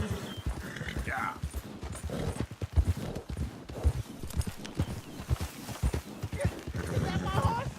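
Horse hooves clip-clop steadily in Red Dead Redemption 2, a continuous close rhythm of hoof strikes with a brief whinny, heard under ongoing conversation between characters.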